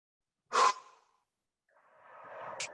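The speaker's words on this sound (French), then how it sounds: "Donc, expirez ici." Breath during a Pilates exercise, a sharp forceful exhale, then silence, then a longer, softer airy breath building up, close and alone with no speech.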